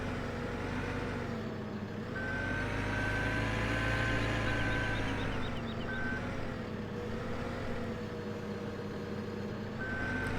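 Evenly repeating reversing beeps come from a Kenworth dump truck in the video game Farming Simulator 17, pulsing over a steady, loud diesel engine drone that runs throughout.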